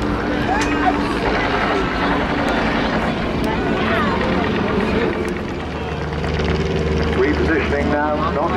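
Display aircraft roar past at the Southport Airshow 2023, where five planes fly head-on passes; the engine noise is loud and sustained, with a commentator talking over a public address throughout.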